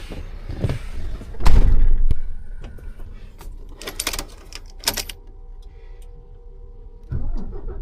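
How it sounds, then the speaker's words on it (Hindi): A heavily loaded truck pulling a trailer starts up amid clunks, rattles and key jangling, its engine settling into a low steady idle rumble, close to the cab with no talking. "अब गाड़ी करता हूँ स्टार्ट"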